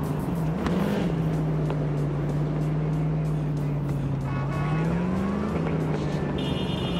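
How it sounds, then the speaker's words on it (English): Muscle car driving in Cyberpunk 2077, a loud continuous engine drone that holds steady and then rises briefly in pitch, with faint tire noise, heard up close. "I kind of like the whole muscle car."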